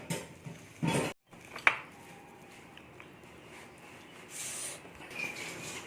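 Mashed potatoes being stirred and mixed in a pan for aloo paratha filling, with a few scraping and clinking knocks of a spoon against metal, near and fairly quiet, no voices.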